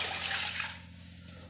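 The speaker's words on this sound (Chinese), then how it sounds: "倒入凉水" Cold water pours into a cooking pot holding beef shank, a brief loud splashing gush that tapers off within about a second.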